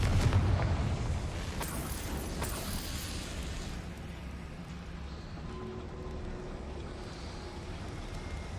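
A Confringo spell explosion in the video game Hogwarts Legacy: a sudden low boom at the start, then a rumbling roar that gradually fades into a sustained dull background.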